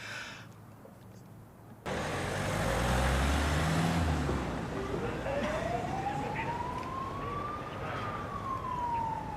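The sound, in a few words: ambulance siren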